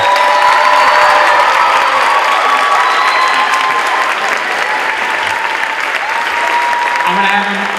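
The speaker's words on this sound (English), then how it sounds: "A round of applause" An audience at an indoor color guard and percussion showcase breaks into loud, sustained applause with some cheering that continues steadily without a break, and a voice is heard faintly near the end.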